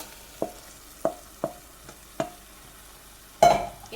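Cooked rice goes into a hot pan for nasi goreng, giving several sharp scraping stir strokes spaced about half a second apart, then a louder sizzling rush as the rice is tossed.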